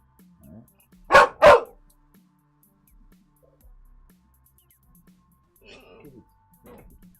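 A pet dog gives two sharp, loud barks in quick succession in a quiet room, followed later by faint rustling and a few soft sounds.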